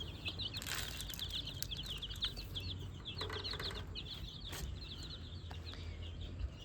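Chickens cluck and chirp while being fed in a small backyard flock. Busy, overlapping calls and occasional wing flaps sound at a moderate distance, with low rustling and no talking.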